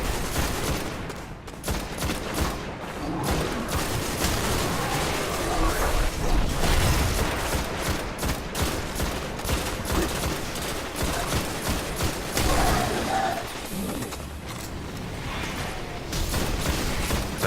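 Continuous gunfire from a precise, slow-firing weapon in the Destiny video game, dense bursts of shots and impacts layered with game effects, loud and sustained throughout.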